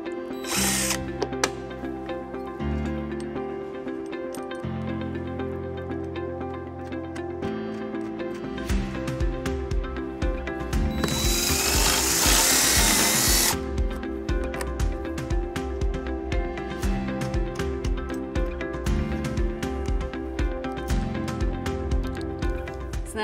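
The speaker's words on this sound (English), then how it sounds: "And we're going to be using a 3/16 drill bit." A power drill fitted with a 3/16 bit bores into metal under a 2005 Acura MDX during wiring harness installation, with repeated whining bursts of the motor, stops and restarts, and a loud grinding stretch midway.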